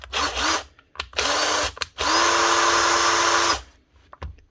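A Hikoki DV 18 DGL cordless drill, its high-speed gearbox stripped, whirs loudly in close bursts: two short runs, then one long steady spin, each revving up and cutting off abruptly.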